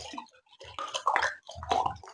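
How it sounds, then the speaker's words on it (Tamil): Water pours from a small water pot in two splashing gushes, gurgling and spattering nearby, with a short lull between them. "அப்புறம் நானே ஒரு ஆறே சொம்பு ஊத்துறேன்"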